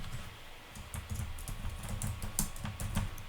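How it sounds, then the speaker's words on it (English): Soft, quick keystrokes on a computer keyboard while data is entered into an Excel spreadsheet, a faint rapid patter over a low background hum. "Go to cell A2 and type in the word customer ID."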